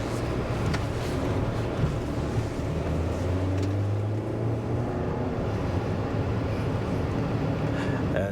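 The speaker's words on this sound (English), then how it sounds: "You can hear that engine a little bit as we rev it up, as we accelerate." A 2024 Volkswagen Atlas SE with its 2-liter turbo four-cylinder accelerates through traffic, heard from inside as a low, steady engine drone with a rising tone under road and cabin noise, with no talking.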